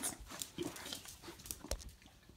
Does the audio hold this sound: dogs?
yes